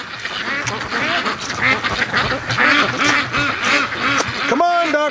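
A flock of ducks quacks repeatedly up close, rhythmic overlapping calls building in intensity, with a loud nasal quack near the end.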